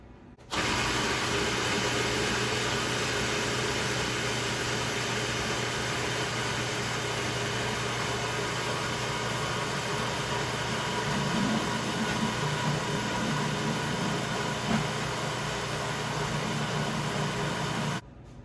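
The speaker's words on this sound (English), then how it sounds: "we are going to blend this for 1 minute, except for our vinegar" A blender runs steadily on grain-free, gluten-free, nut-free bread batter, a constant loud whirring drone that starts abruptly, holds for about seventeen seconds without pause, then cuts off.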